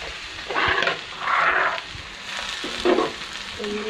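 Onions frying in a pan, with several bursts of loud close sizzling as they are stirred and moved, separated by quieter gaps of low crackle.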